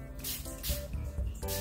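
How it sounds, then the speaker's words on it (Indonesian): A deodorant spray can gives three short, close hissing bursts separated by brief pauses, loud and breathy, with no voices. "3 semprotan ya, mungkin kayak gini"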